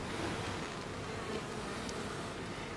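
Honey bees in an open beehive, with frames lifted out, drone in a dense, steady buzz that fills the whole stretch, close and continuous, with no voices over it.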